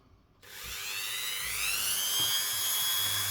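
A Dremel rotary tool cleans fire scale off a 50p coin being made into a ring, a high whine that starts abruptly from near silence and holds steady with a slight rise in pitch, close up and alone.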